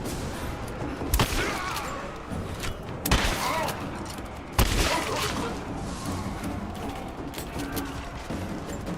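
Gunfire in Rise of the Tomb Raider: three sharp, loud shots spaced a second or two apart over a low rumbling game backdrop, with occasional fainter pops between them.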